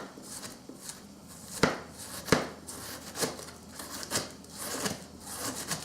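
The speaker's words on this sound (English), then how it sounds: "If you don't have the slice machine, so you have to use your hand to slice like this." Cabbage sliced by hand with a knife on a board, a quiet series of irregular crisp cuts and scraping rasps, with a couple of sharper chops standing out over roughly six seconds.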